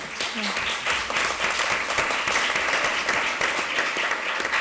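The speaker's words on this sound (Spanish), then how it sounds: "Como para despedir a Elena, primero vamos a darle un aplauso." An audience applauds steadily throughout, dense continuous clapping filling the hall at a farewell during a Spanish science talk program, with a voice briefly audible beneath.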